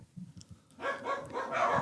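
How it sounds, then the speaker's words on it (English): Several dogs barking in a home, a burst of loud, rapid barks starting partway through and continuing in overlapping yaps, after a quieter stretch with faint background noise. "my dogs are barking their faces off"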